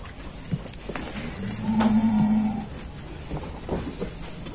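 A heifer moos once, a loud drawn-out low call rising over a noisy farmyard background with faint clatters and a steady high hiss.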